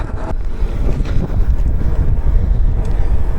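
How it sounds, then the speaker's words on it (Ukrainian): Wind buffets the microphone during a bicycle ride through Kharkiv region, a loud, continuous low rumble and roar with no other distinct sounds. "Вітер не дуже великий, майже попутний."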